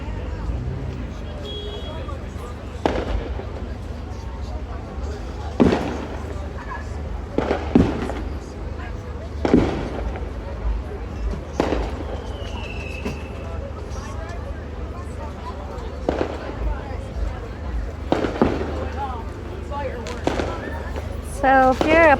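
Fireworks bursting over a town on fireworks night, sharp bangs and crackles scattered irregularly and fairly close, some louder than others, over a steady background rumble of traffic and crowd babble.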